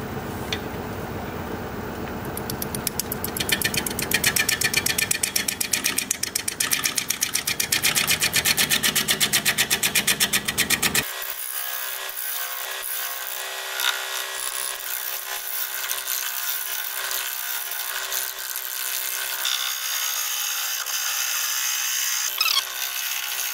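Bowl gouge cutting a rough root ball spinning on a wood lathe, a loud, steady rasping chatter for about ten seconds, then the low end drops away and a thinner, quieter scraping whir continues.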